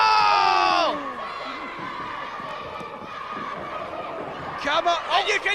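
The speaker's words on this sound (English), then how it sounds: "You can hear the crowd." At a wrestling event the crowd roars at first, then keeps up a steady murmur of cheering before rising again into shouts and chanting, with a commentator talking over it.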